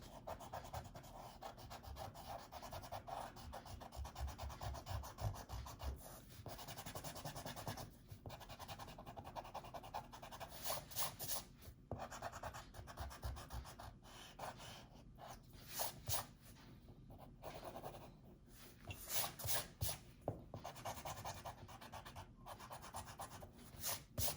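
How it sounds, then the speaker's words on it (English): An eraser rubs out a pencil stick figure on paper in quick, repeated scratchy strokes. The rhythmic rubbing is close and soft and keeps going with brief pauses. "So I'm going to erase first."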